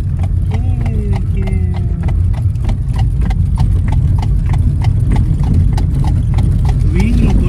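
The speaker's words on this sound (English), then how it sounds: "Wow, look at the horse." An Amish buggy horse's hooves clip-clop briskly and evenly on a paved road, loud and close, with wheel rumble underneath and people talking over it.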